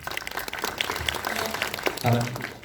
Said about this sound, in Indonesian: Silakan tepuk tangan teman-teman.